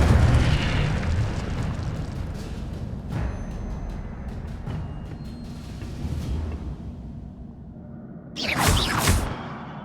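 Incendio fire spell in Hogwarts Legacy: roaring, crackling bursts of flame with rumbling booms, loud at first and then fading, ending in a sharp whooshing blast near the close.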